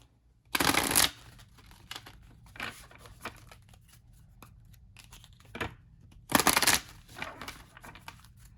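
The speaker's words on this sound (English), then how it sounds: "Let's see how they shuffle." Glossy oracle cards from the African Goddess Rising deck are shuffled close up, with two loud riffling bursts and softer slippery card handling between them, no talking.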